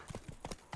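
Horse hooves in the video game Witcher 3 give a quick run of soft clip-clop steps, close and brief, with a faint game background and no talk.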